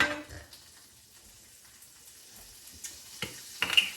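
Cherry tomatoes sizzle faintly in a pan with a knob of butter, a soft steady fry broken by a few sharp ticks and clinks near the end.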